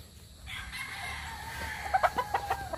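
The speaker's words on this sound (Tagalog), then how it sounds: "Puro na ito manok." Chickens clucking and a rooster crowing nearby at a gamefowl farm, with several short sharp calls piling up toward the end, fairly quiet overall.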